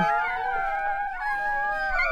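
A litter of ten newborn Rottweiler puppies whines in steady, high, wavering cries that overlap close by, with no talking.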